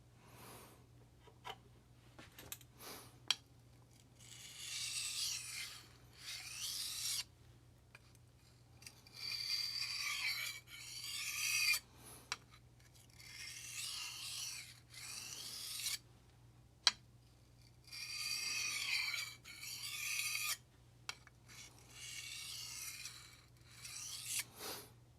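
A knife blade is stroked across a 1000 grit sharpening stone in repeated raspy bursts of several seconds each, separated by short pauses and a few sharp taps, close and fairly quiet with no talking.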